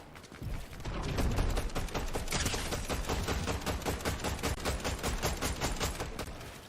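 Rapid bursts of gunfire in a Fortnite trios battle royale match crackle densely and continuously for several seconds, loud and close, with no talk over them.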